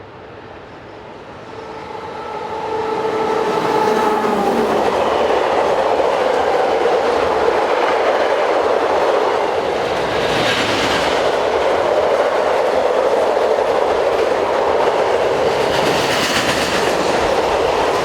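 A freight train rolls past close by on a European railway, a loud continuous rumble and rattle of wagons building up and holding steady.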